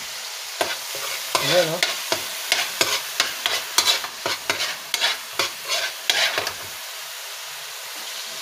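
Fish sauce and cubed pork stirred and sautéed in a hot pan, with a steady sizzle under repeated scraping stir strokes that stop near the end; a voice speaks briefly.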